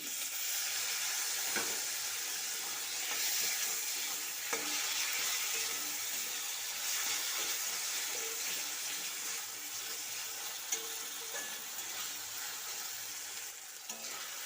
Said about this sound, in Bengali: টমেটো দেওয়ার পর কষিয়ে নিয়েছি